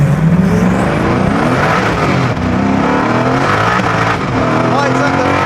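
A Koenigsegg Agera R accelerates hard in first gear with traction control off, its engine a loud close roar climbing steadily in pitch, with a voice talking over it.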